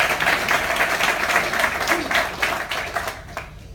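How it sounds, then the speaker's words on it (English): A community audience applauds the community action plan committee, a steady dense wash of clapping that carries across the whole stretch before thinning toward the end. "they really deserve a round of applause for all the work they've done on that"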